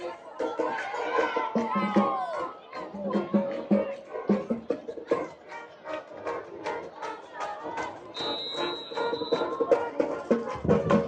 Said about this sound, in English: you can just hear how hyped up this crowd is. The clapping, the fight song.